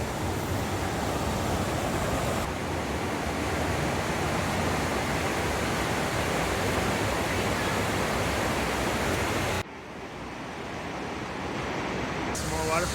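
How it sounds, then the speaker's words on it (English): A continuous roaring rush of falling water from a waterfall in Johnston Canyon, Banff, loud and steady, with a sudden drop in level near the end before the roar builds again. "Some more waterfalls."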